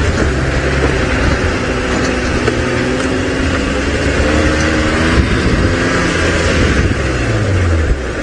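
A safari vehicle driving fast on a game drive, its engine loud and close with a continuous rumble and shifting pitch as it revs and accelerates, wind and road noise running throughout without any talking.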